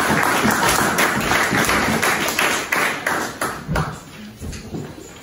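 A church congregation applauds with dense, steady clapping and scattered sharp taps through the whole stretch, fairly close and loud, with voices mixed in faintly underneath.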